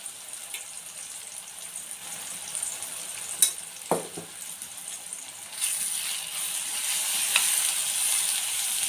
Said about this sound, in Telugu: ఇది కూడా పచ్చివాసన పోయేంత వరకు ఫ్రై చేసుకోవాలి